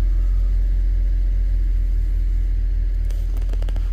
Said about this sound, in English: that's cold start from inside the car